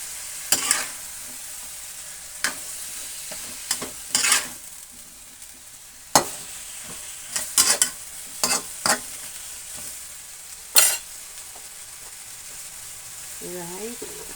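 String beans and squash stir-fried in a pan, heard as scattered scraping and clattering stir strokes over a faint, steady sizzle, with a brief voice near the end.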